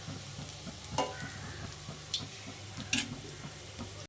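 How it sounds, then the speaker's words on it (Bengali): Fish-oil fritters frying in a pan, a faint steady sizzle with a few light clicks of a utensil turning them, close and quiet. "মাছের তেলের বড়া ভাজা হয়ে গেছে"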